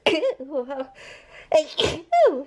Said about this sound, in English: I got the sneezes